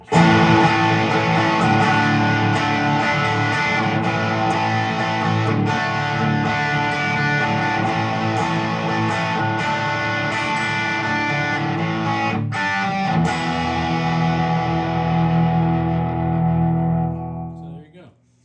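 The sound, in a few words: electric guitar through Dr. Z Prescription Rx amp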